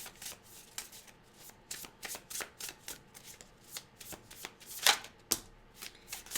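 Tarot cards are shuffled by hand in a steady run of crisp riffling and slapping strokes, close and distinct, with a few sharper snaps partway through and no talking.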